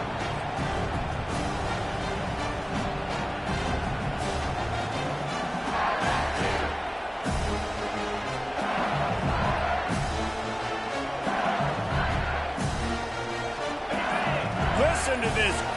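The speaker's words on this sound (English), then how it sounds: "Listen to this crowd just shaking the girders of this place, trying to help their defense." A packed stadium crowd roars steadily through a college football video game matchup between LSU and Washington, a dense, loud wall of noise that swells in waves and continues without a break.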